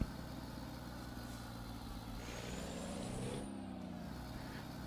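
A truck idling up close in American Truck Simulator, a low steady engine rumble with a brief hiss of air brake release midway, fairly quiet and continuous.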